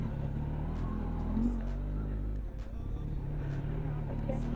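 A car engine drones and revs while the car is stuck on a mountain road between Srinagar and Badrinath. The low motor sound is steady and close, and people talk over it.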